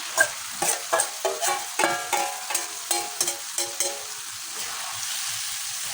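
Beef tripe and potatoes frying in a pan, stirred with a series of rhythmic scraping strokes over a steady close sizzle; the stirring stops near the end while the sizzle continues alone.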